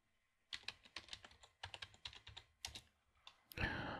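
Quick, close keystrokes on a computer keyboard as a passphrase is typed while setting up SSH key authentication on a Linux server, in uneven bursts with short pauses, ending in a brief louder clatter.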